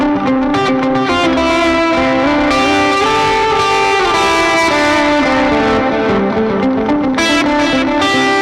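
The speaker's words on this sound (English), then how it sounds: "So I'm going to dial in delay and reverb just to hear how this will sound" Sustained electric guitar chords and notes through an M-Vave Blackbox, drenched in delay and reverb, echoes trailing into each other, loud and continuous with no voices.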